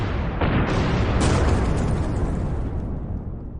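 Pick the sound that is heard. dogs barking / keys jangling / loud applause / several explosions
several explosions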